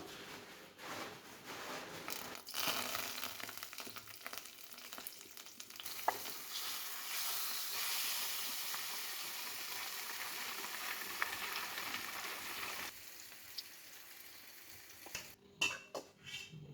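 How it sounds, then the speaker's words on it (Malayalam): Steady, loud sizzling of fish frying in hot oil in a pan, lasting well over ten seconds, with a few clinks of utensils near the end. "നമുക്ക് മീനും കൂടെ വറുത്താൽ അത്താഴം കഴിക്കാം"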